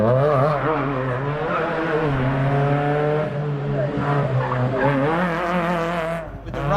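A Hyundai Excel hillclimb race car at a lakeside hillclimb event, engine droning and shifting pitch as tires squeal in long sustained skids, fairly close and steady throughout.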